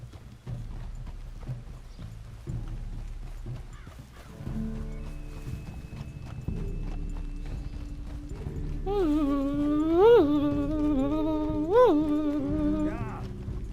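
Horse hooves clip-clop steadily while riding through the open world of Red Dead Redemption 2, with a horse neighing loudly near the end over soft background game ambience.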